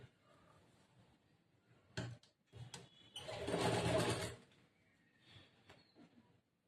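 A sewing machine stitches a puff sleeve in short, faint bursts, stopping and starting, with one longer louder run of stitching in the middle and small clicks of handling between.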